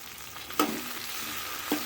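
Tomatoes and shallots sauté in oil for a ridge gourd masala curry, a soft, quiet sizzle broken by two brief scraping stirs.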